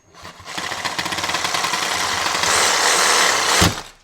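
A reciprocating saw fitted with a scraper attachment grinds across a workbench in a loud, continuous rattling buzz that builds and holds for about three seconds before cutting off abruptly.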